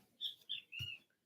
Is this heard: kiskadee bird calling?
yes